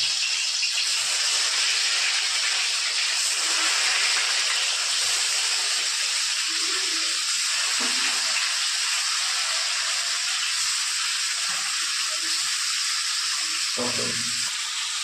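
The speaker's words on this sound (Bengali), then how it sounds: "প্রথমে আমি মাছগুলোকে সরষের তেলে ফ্রাই করে নেব।" Rohu fish pieces frying in mustard oil, a steady dense sizzle and crackle that holds loud and even for the whole stretch, with a few faint knocks from the pan underneath.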